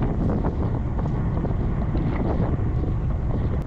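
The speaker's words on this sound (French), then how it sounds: "Une partie très exposée au vent du sud." Strong southerly wind buffets a cyclist's helmet-mounted camera on an exposed plateau, a loud, constant low roar of wind noise with no speech.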